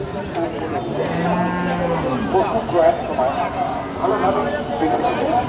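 A low drawn-out moo from a large bull rises above a crowded cattle market in Ratankandi, Kazipur, Sirajganj, with people talking and animal noises all around.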